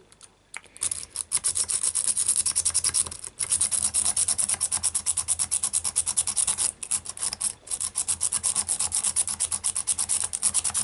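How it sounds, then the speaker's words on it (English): Rapid, loud scraping and rasping of a lock pick raking the pins of a used ERA rim cylinder lock, running in quick repeated strokes for several seconds, close up and with a couple of brief pauses. "Maybe try bottom of the keyway instead. Considering we are trying to rake it."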